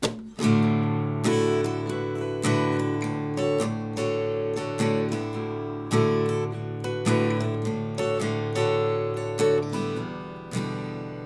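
An acoustic guitar plays a song, strummed and picked in a steady, gentle rhythm, with regular chord strikes ringing out clearly and close.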